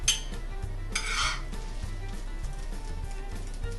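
A beaten egg hits a pan whose oil is too cool, giving a soft, sparse sizzle with a brief brighter hiss near the start that settles into faint bubbling, close by and with no one talking.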